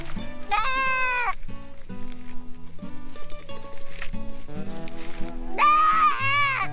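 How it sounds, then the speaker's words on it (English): Goats being herded along a road bleat loudly, with two long wavering cries at the start and end over a steady background of shuffling and lower calls. "Come on, Clint, get behind those guys so I don't have to pick that goat up again."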